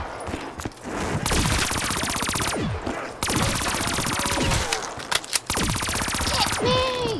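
Rapid automatic gunfire from the Mario Zombies video game, loud sustained bursts of fire with brief gaps and a few shorter volleys, filling most of the stretch with no talk.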